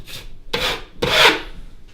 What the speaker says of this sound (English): I'll push that in and then knife it